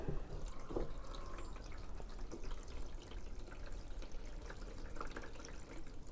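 Water poured into the base of a broccoli planter, a soft splashing and trickling with occasional drips, fairly faint and steady for several seconds without talk.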